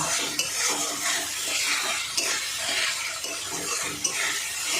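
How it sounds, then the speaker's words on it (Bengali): Spice paste for a pangas fish curry being stirred and sautéed in a pan, with a steady sizzle and repeated scraping spoon strokes against the metal, close and without talk. "সেই জন্য মশলাটা একটু ভালো করে কষাতে হবে।"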